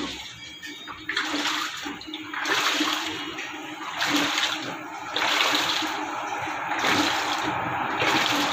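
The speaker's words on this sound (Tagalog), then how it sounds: "Ayan po yung testing natin sa wash cycle." An LG washing machine churns through its wash cycle, water sloshing and splashing in rhythmic surges as the drum turns back and forth, loud and close with no voices.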